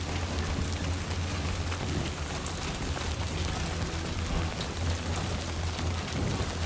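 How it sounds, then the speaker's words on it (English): Rain and wind in the video game Death Stranding 2 make a steady, dense hiss of heavy rainfall with a low rumbling undertone, unbroken and fairly loud throughout with no talk. "Oh, rain and wind."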